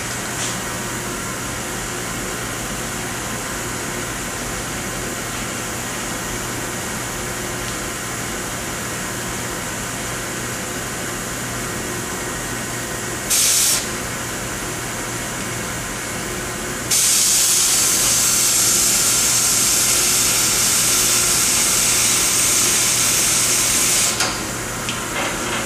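A flame cutting torch cuts a notch in steel, giving a steady, loud roaring hiss that runs the whole time and grows brighter and harsher partway through as the cut proceeds.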